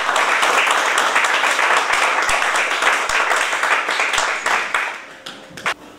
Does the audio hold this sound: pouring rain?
no